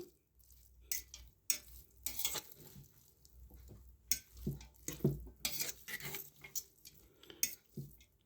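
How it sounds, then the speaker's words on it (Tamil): Beetroot salad dressed with oil gets stirred and mixed in a bowl, with irregular spoon clinks and soft scraping taps coming in quick bursts at close range. "இப்போ வந்து கலந்துக்கலாம் இது எல்லாத்தையும்"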